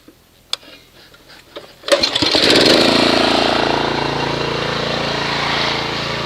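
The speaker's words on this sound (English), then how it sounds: "So that's why I use the pressure washer to mix it up." A few faint clicks and knocks come first, then a pressure washer engine starts and runs with a steady, close, loud drone, agitating soap and water in a bucket to mix car wash suds.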